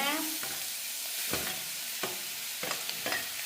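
Tomatoes being stirred into a sizzling pan mixture with ginger and fenugreek, the spoon scraping in a steady series of strokes over a constant frying sizzle, close by with no talking.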